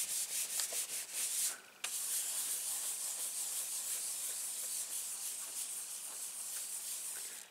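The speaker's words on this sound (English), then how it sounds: "I'm going to turn this over and give it a good rubbing from underneath." A paper card is rubbed firmly from underneath to adhere it, giving a close, continuous dry scratchy rasping with quick back-and-forth strokes and a brief pause near the start.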